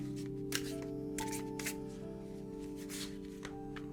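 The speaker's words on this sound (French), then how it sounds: "je vais tirer une première carte." Tarot cards shuffled and one drawn from the deck, with several quick riffling bursts and soft card slaps over a steady low background hum, close and fairly quiet, no talking.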